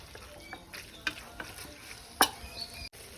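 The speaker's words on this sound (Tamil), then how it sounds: "இது இப்போ தக்காளி போட்டு நல்லா வதங்கிருச்சு" Tomatoes sautéing in a pan for homemade kuska biryani, a soft continuous sizzle punctuated by a few scraping stirs of a spoon against the pan, close but quiet, with no talking.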